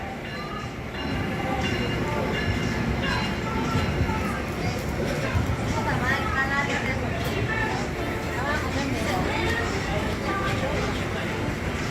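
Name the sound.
Amtrak 318 westbound train passing at Trenton station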